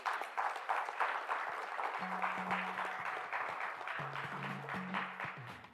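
A conference audience at a stakeholders event gives Mr. Jerome Namasip steady, moderately loud applause that lasts throughout, with a low tone humming beneath the clapping.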